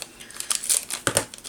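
Plastic packaging around a pack of Nuvo jewel drops is crinkled, torn and pulled open by hand in bursts of close, rustling crackles and snaps, with no scissors used.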